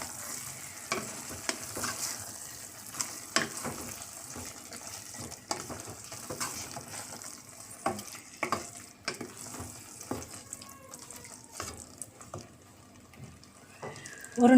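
Chilli paste for a mushroom biryani is stirred and fried in a pan, a soft sizzle under repeated spatula scrapes and taps, with a sharper knock at the very end.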